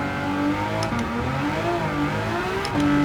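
A Ferrari Testarossa in Gran Turismo 7 revs hard toward 9,000 rpm on the Nürburgring, a steady loud engine note rising and dipping through gear changes, with one sharp shift near the end.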